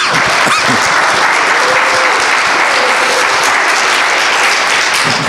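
A church congregation applauds the pastor after his sermon, loud and dense clapping filling the hall without a break, with a brief voice near the start.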